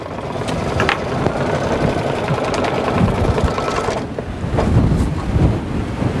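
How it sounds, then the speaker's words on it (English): Sewing machine running a tacking stitch on fabric for a drawstring bag, a steady fast whirring hum heard close up, with a brief pause near the middle before the stitching resumes. "Go ahead and run this tacking stitch."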